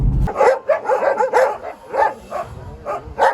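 Stray dogs at the Sirius animal shelter in Ukraine barking, a rapid overlapping series of loud, close barks and yips from several dogs with no talking.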